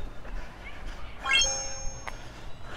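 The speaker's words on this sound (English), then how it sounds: "Got a notification there." A notification chime from a Eufy Dual Cam video doorbell sounds once, a brief rising tone with a clear ringing tail, over faint room noise.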